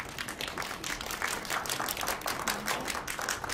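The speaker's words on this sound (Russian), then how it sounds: "Аплодисменты." An audience breaks into applause for a company representative invited onto the stage at a cosmetology presentation. The clapping is dense and continuous at moderate volume throughout.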